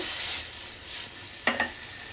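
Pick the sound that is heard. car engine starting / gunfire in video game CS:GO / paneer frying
paneer frying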